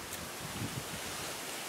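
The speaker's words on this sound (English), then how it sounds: "But the wind has picked up." Wind blowing outdoors during a tropical storm, a steady broadband rush with soft low buffeting gusts and no voices.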